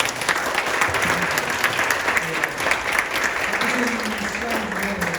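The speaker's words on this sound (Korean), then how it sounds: "큰 박수 부탁드리겠습니다" A big round of applause closes a session at a sports media academic conference, dense steady clapping from the audience throughout with a voice speaking faintly beneath it.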